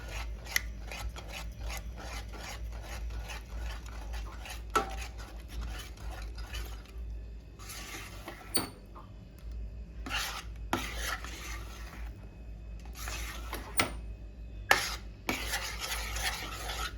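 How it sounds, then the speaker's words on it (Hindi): Chicken marinade being stirred with black pepper powder, repeated scraping and rubbing strokes of a spoon against a bowl in an uneven rhythm, close and fairly quiet, without speech. "काला मरी पाउडर, अच्छे से हमें इसे मिक्स कर लेना है।"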